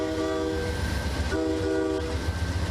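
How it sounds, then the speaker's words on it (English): A Nathan K3LA air horn on a CN C44-9W locomotive, two chord blasts with a short gap between them over the rumble of the passing train, loud and fairly close. "And a Nathan K3LA air horn."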